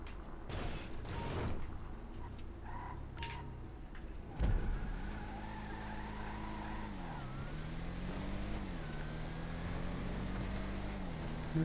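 Car in a racing video game time trial through a storm drain, its engine droning and rising in pitch as it accelerates, with clicks and a thump early on before a steady climbing whine.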